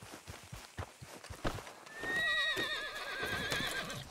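A horse in the Red Dead Redemption 2 video game lets out a wavering neigh after a run of close, clopping hoof steps.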